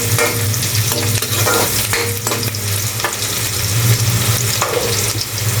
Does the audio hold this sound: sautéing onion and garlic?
yes